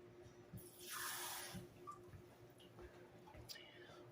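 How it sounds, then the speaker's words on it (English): A kitchen tap runs briefly while hands are washed during peanut butter cookie baking, a soft gush of water lasting about a second amid a quiet room with faint small knocks. "Let me wash my hands real quick"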